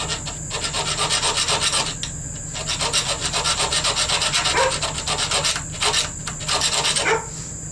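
A rat-tail file cuts a small circle into a soft wooden part during sword assembly, giving rapid, even rasping strokes that run close and steady with brief pauses.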